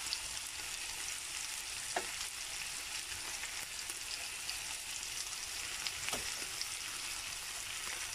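Liver frying steadily in a pan, a dense continuous sizzle and crackle at moderate level with a couple of faint clinks, no voices.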